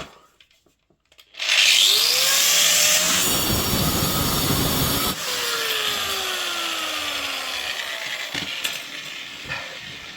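A power tool cuts through the end of a bolt during repairs to rotten timber floor joists, a loud steady grinding roar that starts abruptly after a second of quiet and runs on with a shifting pitch.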